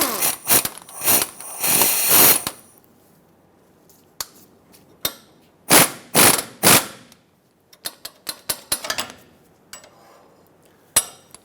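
Ratchet loosening the tie rod sleeve clamp bolts on a Dodge Ram 2500 pitman arm and drag link job: close, loud bursts of rapid clicking, with a few quick runs separated by pauses and scattered single clicks.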